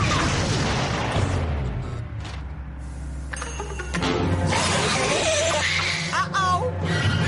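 Firecrackers go off in a cartoon, loud booms and crackling bursts, with other cartoon sound effects and music around them.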